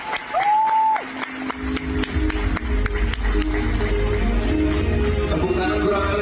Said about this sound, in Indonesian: Tepuk tangan kurang meriah dong.